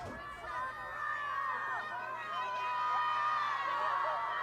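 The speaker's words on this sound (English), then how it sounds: "Crowd getting into it." Crowd noise at a slam football game, a steady roar of spectators building slightly as a kickoff approaches, with high whistle-like tones and a commentator's voice layered over the continuous cheering.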